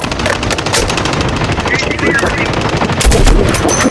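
Rapid automatic gunfire in a Call of Duty video game, loud continuous close bursts with overlapping shots, voices talking over it.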